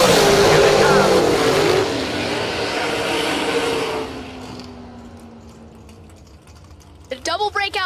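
Drag racing cars launch off the start line at an SFG $525,000 race. A loud engine roar sweeps past and fades into the distance while a commentator talks over it.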